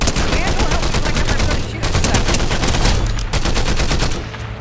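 Loud, continuous rapid gunfire in the video game Fortnite, dense bursts of shots with only brief dips, close and dominating throughout.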